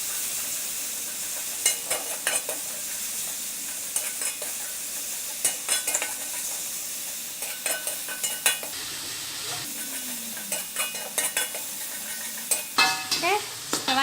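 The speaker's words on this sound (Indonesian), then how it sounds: "semua kita campur aduk" A spatula scrapes and stirs a fried noodle and rice mixture in a sizzling pan, with irregular clanks and scrapes over a steady frying hiss and little talk.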